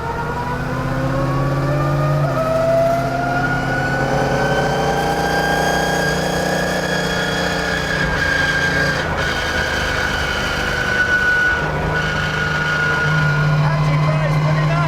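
The Batman Tumbler car drives with a steady engine drone and layered whining tones that slowly rise and fall, while people talk over it.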